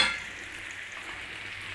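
Beef sizzles in a hot pan while being seared for a suet pudding, a soft steady frying hiss with a brief stirring scrape at the start, fairly quiet and close.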